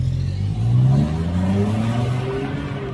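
A 2021 BMW X1 accelerates from inside the cabin, its engine note rising steadily in pitch with a smooth, moderately loud hum and no talking.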